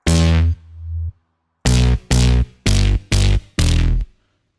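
A punchy electronic drum and bass drum hit with a low booming tail, then a pause and five quick heavy hits in a row, loud and close with no voices.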